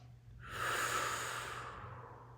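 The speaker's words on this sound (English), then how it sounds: "full breath in and out." One slow, full breath is drawn in and let out during a chest-opening stretch, close and soft, swelling in the middle and fading at the end over a faint low hum.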